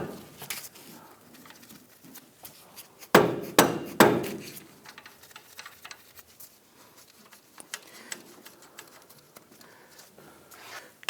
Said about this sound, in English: Go ahead and continue to tap this in.